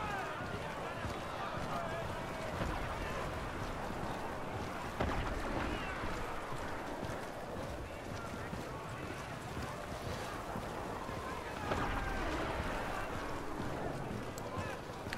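A storm wind roars steadily through a Star Wars Battlefront 2 battlefield, a dense broadband rush with gusts swelling around the middle and near the end, heard under ongoing talk.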